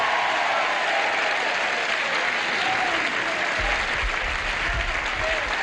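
Loud, steady applause from a large studio audience at the game show Tattletales, sustained throughout, with a few faint cheers and voices mixed into the clapping.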